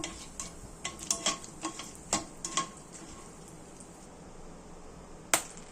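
Whole spices (bay leaf, green cardamom, cloves, cinnamon and black peppercorns) fry in a pan, giving sparse, soft crackles and ticking pops over a faint, quiet sizzle, with one sharper pop near the end.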